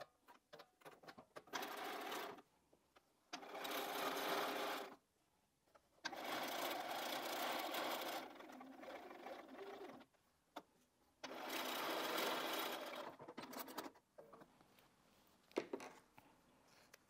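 Sewing machine stitching a seam on a 4-patch quilt block, running in three long steady bursts with short pauses between, close and clear with no talk.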